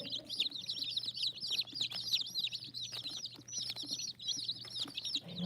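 Brown cinnamon cream chickens cluck and chirp continuously in bright, busy bursts, with a steady low hum running underneath throughout.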